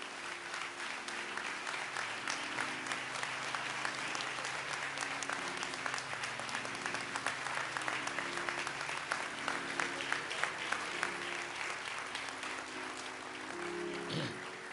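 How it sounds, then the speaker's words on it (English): A large crowd at a memorial service in Minneapolis applauds loudly and continuously, dense clapping with some cheering, holding steady before tapering near the end. "Please give a great round of applause for the Reverend Al Sharpton."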